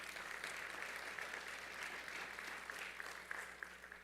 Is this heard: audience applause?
yes